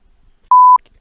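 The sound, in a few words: censor beep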